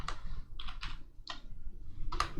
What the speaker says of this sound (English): you audit by pressing F2 on your keyboard